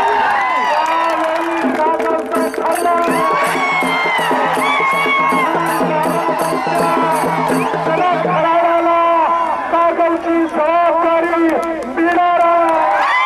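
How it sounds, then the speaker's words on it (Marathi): Supporters at a political rally in Kagal cheer for Samarjitsinh Ghatge, a loud, dense crowd roar with whoops and shouting voices that rises and swells throughout. "राजे समर्थकांनी एकच जल्लोष केला"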